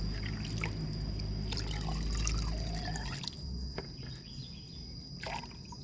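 Homemade liquid fertilizer from rice water and fruit peels pouring steadily from a dipper into tap water with a gurgling trickle, then a few drips and splashes; faint and close, no talking.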